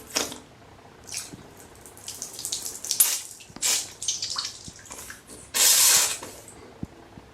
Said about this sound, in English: this Thomas water squirter seems to squirt water pretty well